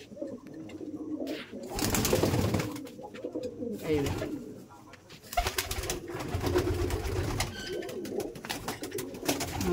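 Pigeons coo in a village loft near Basirhat that houses some seventy to eighty birds, soft rolling calls layered throughout with wing flutters, while someone speaks briefly nearby.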